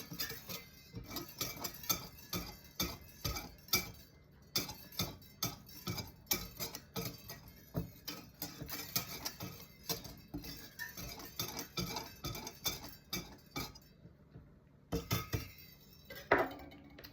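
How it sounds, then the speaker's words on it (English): A whisk rattling quickly against a bowl while mixing English muffin dough ingredients, rapid, clicky metallic strokes in irregular bursts, fairly quiet and close, with short pauses between runs. "we're gonna give that a good whisk"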